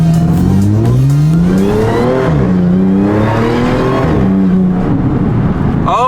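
An Audi B8.5 S4 on summer tires pulls hard in a race, its engine revving up through rising, falling and climbing-again surges, loud and close throughout, with a brief voice at the very end.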